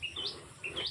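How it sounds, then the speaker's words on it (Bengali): Small birds chirp in a village at sunset, giving two faint, quick pairs of high tweets against quiet countryside air. "পাখিরাও যে যার বাড়ি যাচ্ছে এখন।"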